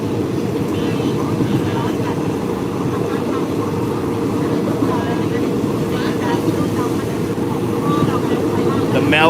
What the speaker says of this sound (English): It's the monotony of the train, the sound of the train tracks.